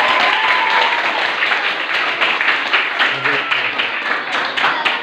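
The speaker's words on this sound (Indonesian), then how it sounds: "Oke, tepuk tangan." Hands clapping together in a classroom of schoolgirls at an Islamic boarding school study session, a steady patter of applause that holds for several seconds alongside some voices.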